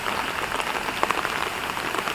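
Rain falling steadily on a garden of potted plants and crotons, a dense even patter of drops striking leaves and surfaces with a few sharper nearby splashes.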